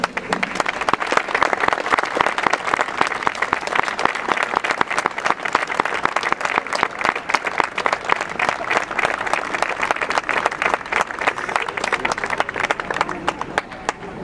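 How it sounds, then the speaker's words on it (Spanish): Sustained applause from a crowd of men and women gathered at a street concentration against sexist violence, dense steady clapping filling the whole stretch at an even, fairly loud level with faint voices mixed in. "al menos merecen un aplauso como poco"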